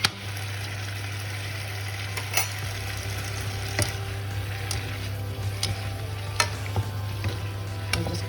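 Beef, green beans and tomatoes stir-fry in a hot pan, a steady close sizzle broken by sharp scraping clicks of a utensil tossing the food, with a low hum underneath and no talking.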